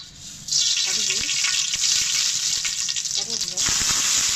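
Mustard seeds hit hot oil in a pan and burst into a loud, continuous crackling sizzle that holds steady to the end, with a faint voice briefly audible underneath.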